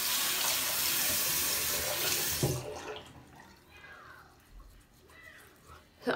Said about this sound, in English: I'm gonna go ahead and rinse my face